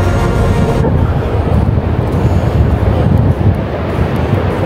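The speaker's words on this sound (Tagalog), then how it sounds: "Mas mahangin dito kaysa dun sa taas." Strong wind blows outdoors, buffeting the microphone with loud, rumbling low-end gusts that continue for the whole stretch.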